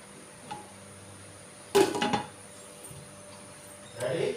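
A metal cooking pot is set onto a kitchen gas stove with a short clatter of clinks near the middle, then another light scrape of metal on metal at the end, against a quiet room hum.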